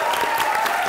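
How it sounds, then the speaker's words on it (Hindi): A studio audience bursts into steady, dense applause on a Pakistani comedy talk show, loud and close, filling the whole short moment without pause. "पूरे पाकिस्तान की तरफ से ताली।"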